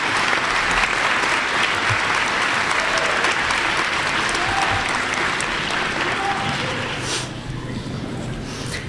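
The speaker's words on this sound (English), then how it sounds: "I wish for the class of 2015 to stand and applaud your instructors for a job well done" At a nurse pinning ceremony, the graduating class and audience give sustained, dense applause for their nursing instructors, a steady wash of clapping that thins slightly near the end.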